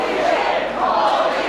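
Loud wrestling crowd roaring in reaction to a wrestler's vicious landing after a ladder collapse at a live EPW show, a dense, sustained wall of shouting and noise close up for about a second and a half.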